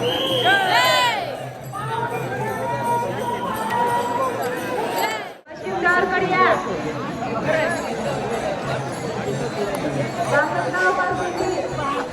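Dense pilgrim crowd circling the temple at Pandharpur during Ashadhi Ekadashi: continuous close chatter, overlapping voices and occasional shouts, with a brief drop in level midway before the hubbub resumes.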